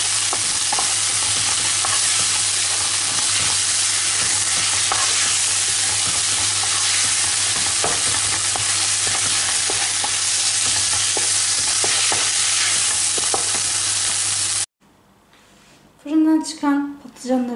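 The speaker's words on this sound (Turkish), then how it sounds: "Domates sosu ekliyoruz." Tomato sauce sizzles and is stirred in a frying pan with a steady, close frying hiss and scraping stirs for about fifteen seconds, before a voice speaks briefly at the end.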